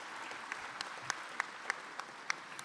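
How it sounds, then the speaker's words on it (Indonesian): Applause for a deputy minister at an Indonesian government event, faint crowd clapping with a few sharper individual claps standing out above a soft, continuous patter. "Tepuk tangan untuk Wamen saya dong."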